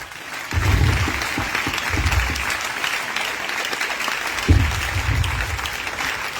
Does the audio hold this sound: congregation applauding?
yes